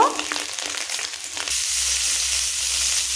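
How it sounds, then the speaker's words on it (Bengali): Cauliflower and potatoes fry in hot oil. A brief clatter opens, then a steady, even sizzle holds close up to the end. "এরপর ভেজে নেব আমি ফুলকপি আর আলু"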